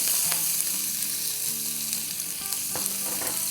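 Crushed garlic and chopped green chili sizzle in hot oil, a dense, steady frying hiss broken by occasional clicks and light stirring knocks, close and continuous.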